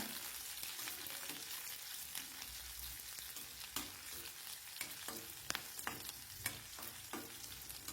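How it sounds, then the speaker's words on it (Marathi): Green chilies and garlic fry in oil, giving a soft, continuous sizzle with scattered scraping taps of a spoon stirring the pan, faint and without voices. "हे मिरच्या आणि लसूण छान तेलावर परतून घ्यायचे बघा"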